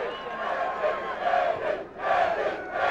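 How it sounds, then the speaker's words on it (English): High school wrestling state finals crowd in a gym hollering and cheering, a loud continuous roar that swells, dips briefly, then surges again. "You can hear the DeKalb crowd hollering."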